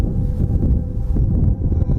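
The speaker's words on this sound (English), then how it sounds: "it's kind of windy" Strong wind buffets the microphone outdoors during a backyard shade cloth project, producing continuous low rumbling gusts that stay loud for the whole stretch.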